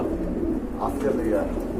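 Black Bombay pigeons coo softly at a market stall, low rolling calls over steady background chatter and crowd noise; people talk nearby.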